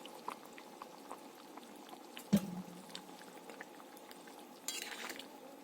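Kofta curry sprinkled with ground garam masala simmers in a pan with faint, steady bubbling, broken by one sharp clink of a utensil midway and a brief scraping stir near the end.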